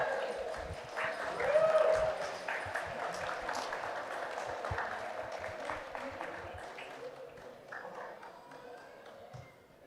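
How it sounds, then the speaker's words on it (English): Wedding guests at a Lake Tahoe reception applaud the matron of honor after her speech, a broad wash of clapping that swells around two seconds and then holds steady, with some voices mixed in. "please give me a round of applause"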